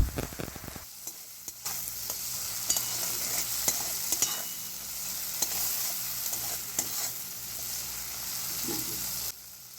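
Tomato, ginger-chili paste and salt being stirred and sautéed in a pan, with a continuous bright sizzle and frequent scraping strokes of a spoon against the pan, close and fairly quiet, no voices.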